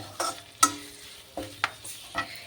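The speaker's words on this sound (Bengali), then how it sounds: "গুঁড়ো লঙ্কাটা দিয়ে বেশিক্ষণ ভাজবো না, তাহলে কালো হয়ে যাবে।" Chili powder frying briefly in a pan of hot oil for a Bengali curry, with a few scattered soft scrapes and clinks of a stirring spoon over a quiet low sizzle, each stir a short separate burst.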